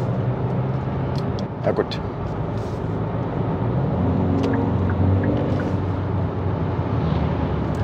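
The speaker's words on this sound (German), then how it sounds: "Ich beschleunige jetzt mal." Steady engine and road drone from inside a 2023 Kia Sportage 1.6 CRDi 48V mild hybrid AWD diesel accelerating up a long, steep hill, a continuous loud cabin rumble with a brief spoken remark over it.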